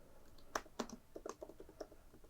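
Light, quick keystrokes on a computer keyboard as lowercase text is typed into a graphics editing program, a short burst of soft clicks close by, faint and without any voices.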